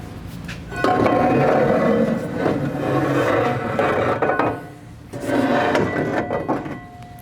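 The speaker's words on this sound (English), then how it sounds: "Now you can pull out your torsion bars" Heavy steel torsion bars being pulled from a 2020+ GM 2500 truck during a 6.5-inch lift kit install, giving sustained scraping, grinding metal friction in two long close pulls with a short pause between.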